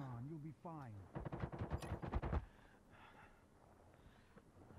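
A voice speaks briefly, then a rapid burst of gunfire in the zombie battle royale mobile game ZOZ: Final Hour rattles for about a second before fading into quiet background noise.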